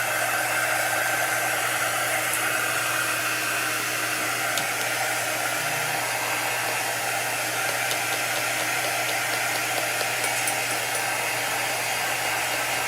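A handheld heat tool blows steadily to dry a chalk paint craft project, giving a constant loud whooshing hum that continues without a break for nearly thirteen seconds with no talking.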